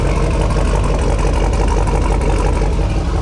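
A loud, steady 1993 GMC GMT400 pickup with an LS engine swap idles through a 3-inch exhaust with a glass pack muffler, a deep, throaty rumble, continuous and close throughout.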